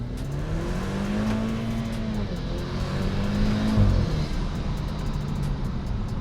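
Cabin sound of a tuned BMW F30 328i with the N20 engine, a steady loud drone that rises and dips as revs change, with road and wind noise underneath and no talking.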